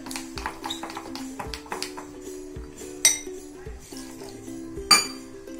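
A whisk clinks steadily against a bowl while cheese ball batter with salt is beaten smooth: quick, rhythmic metallic taps with a couple of louder knocks, close by over a low steady background hum.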